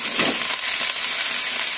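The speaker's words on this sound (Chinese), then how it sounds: "咁煎一煎呢啲带子同埋虾先" Scallops and shrimp frying in a pan, a loud continuous close-up sizzle with a bright hiss that stays steady throughout.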